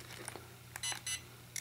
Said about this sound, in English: You have two beeps, two green flashes.